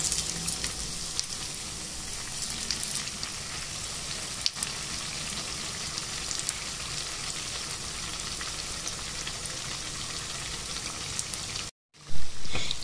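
Medu vada, the urad dal fritters, frying in hot oil with a steady, dense crackling sizzle that holds throughout, then breaks off abruptly near the end before a short louder burst.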